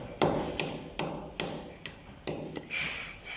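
A square-faced hammer taps the metal edge of a flush wall electrical box in a slow, steady series of about eight sharp knocks, close and moderately loud.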